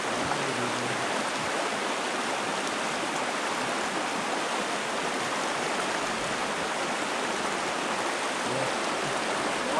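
Steady broadband rush of a stream flowing through a rural Romanian village, continuous and fairly loud with no breaks, no voices heard over the water.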